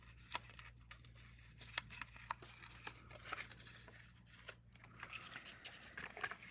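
Blue tape being peeled off while crafting paper bunny boxes, a quiet series of sharp crinkly crackles and tearing snaps in uneven bursts, close up over a low steady hum.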